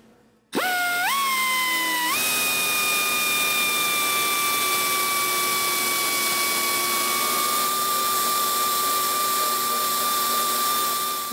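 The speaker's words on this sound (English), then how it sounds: "just grind out those spot welds all the way down" A power grinder grinding out spot welds on the cab corner of a 2001-2006 Chevrolet Silverado 2500 spins up with a rising whine, then holds a loud, steady, high-pitched drone close by for about ten seconds.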